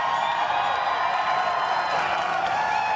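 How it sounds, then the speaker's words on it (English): Applause and cheering from a crowd gathered on a plaza for an interview event, a steady dense wash of clapping with whoops and voices mixed in, loud and continuous throughout. "you can clap"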